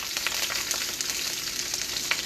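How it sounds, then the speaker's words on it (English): Shrimp stir fry sizzling hard in a hot wok, a dense, steady crackle with frequent sharp pops, close up and moderately loud, with no talking. "You hear the pan pop? The wok pops."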